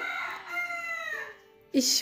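A rooster near a village home garden gives one long, clear cock-a-doodle-doo that falls in pitch. A loud cluck or squawk from the neighbourhood chickens follows right after.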